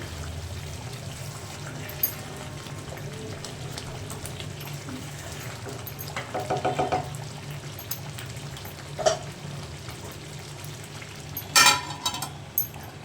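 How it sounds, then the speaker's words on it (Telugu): Brinjal masala curry bubbling in a pan while it is stirred: a steady low simmer with soft scrapes and a few sharper clanks of the spoon against the pan, one louder knock near the end. "మంచిగా ఉడకనియాలి. కలుపుకోవాలి మంచిగా."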